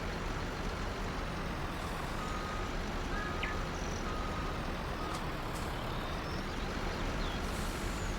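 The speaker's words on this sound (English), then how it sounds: "This is the truck that came with the contract." Truck engine idling and rumbling in Farming Simulator 19, a steady broadband drone throughout with faint higher beeps and hisses like air brakes and reversing signals over the top.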